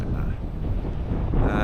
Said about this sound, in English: The wind is quite strong down here and I don't have a microphone yet.